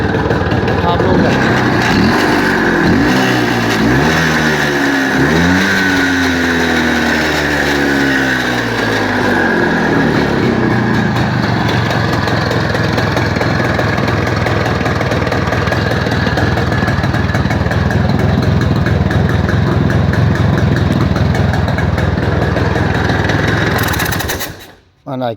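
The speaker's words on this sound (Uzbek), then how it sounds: "Gaz berib ko'raman. Quloq solib ko'rasiz aka motorlari." A motorcycle engine for sale in Oltiariq, Fergana, revs up through several rising throttle blips early on, then settles into a loud, steady, close idle that holds for about twenty seconds before cutting off.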